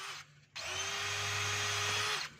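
DeWalt DCD796 cordless drill in hammer mode whirs up briefly, pauses, then runs steadily for under two seconds with a loud, close, buzzing hammering drone before spinning down.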